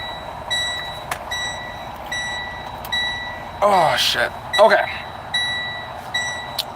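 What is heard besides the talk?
truck reversing beeps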